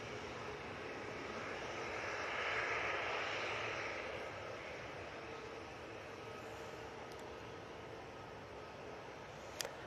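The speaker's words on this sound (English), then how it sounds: "And the Etihad 777 making its way over to us now" An Etihad Boeing 777 airliner passes over near Manchester Airport as a steady, faint jet roar that swells a little in the early seconds and then holds on as a distant wash, with no one speaking.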